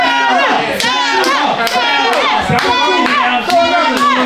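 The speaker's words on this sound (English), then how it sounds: "y'all cheer Sarah on" Crowd at a ladies' night boxing sparring event claps and cheers loudly and continuously for a boxer named Sarah, with excited shouting voices over the steady applause.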